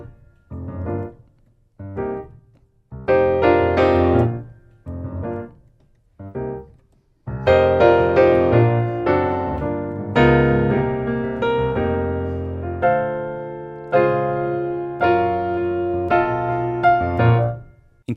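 A keyboard plays the keys part of a song, built on a straightforward progression with passing chords: short stabbed chords at first, then a fuller, steadier run of sustained chords, played solo without voices.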